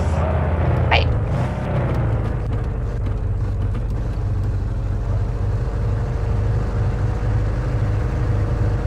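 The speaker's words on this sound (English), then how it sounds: "how shitty is our car that it's that loud?" A loud, steady car engine drone in the horror video game The Radio Station, a continuous low rumble with a brief rising tone near the start.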